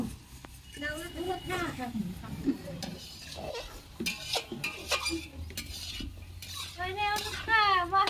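Spoons stirring and scraping pots while khichuri cooks in a home kitchen, soft intermittent clinks and scrapes with faint sizzling beneath frequent nearby talk.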